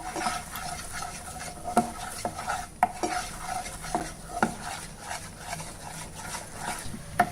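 Sugar caramelizing in a pan for a rice halwa, stirred slowly with a spoon, giving a soft continuous sizzle with repeated light scraping and a few metallic taps, close and quiet with no talking.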